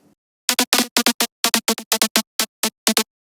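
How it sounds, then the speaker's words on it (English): A bright, buzzy saw-wave synth lead from Serum, with seven unison voices and heavy detune, plays a rhythmic pattern of short staccato notes, thick and slightly detuned, with clear gaps between hits. "It's just a saw wave in Serum with 7 voices of unison and a decent amount of detune."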